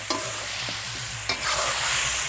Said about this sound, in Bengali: আলু আর টমাটোগুলো ভালো করে মিশিয়ে নেব